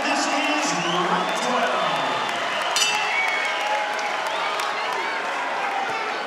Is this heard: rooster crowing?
no